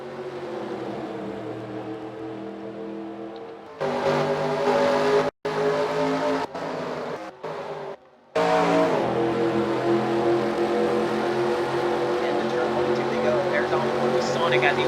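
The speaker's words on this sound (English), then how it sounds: "Down the front straightaway, into the restart zone, through the gears they go." Race car engines in a Daytona sim racing game roar through the gears with a loud, sustained drone that cuts out briefly during gear changes, while a commentator talks over it.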